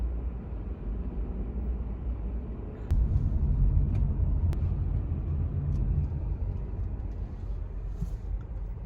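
A car rolls into a parking area outside a police and fire rescue station in Coral Springs, Florida, its engine a steady low rumble throughout that swells slightly midway, with no talking.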